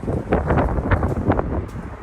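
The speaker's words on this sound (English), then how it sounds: "So it's a little windy, so hopefully it's not too distracting." Steady wind buffets the microphone outdoors among potted cactus and succulents in spring, a continuous low rumble with gusty swells and rustling throughout.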